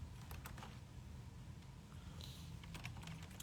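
Keystrokes on a computer keyboard, a quick irregular run of taps from a nearby typist over a low steady room hum, with no voices.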